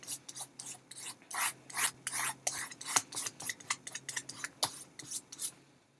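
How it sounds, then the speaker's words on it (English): A sponge scrubs blue paint onto a wooden nesting box in a steady run of soft, quick rasping strokes, fairly faint and close, with no voices. "you could take your sponge and your blue paint and go back over that just a little bit"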